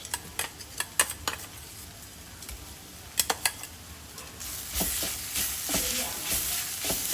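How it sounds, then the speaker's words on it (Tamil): Ginger garlic paste fries with onions in a pan. A few sharp clicks and knocks of stirring come first, then a steadier, louder sizzle builds and holds close by. "இஞ்சி பூண்டு பேஸ்ட்டு போடலாம் கொஞ்சமாக"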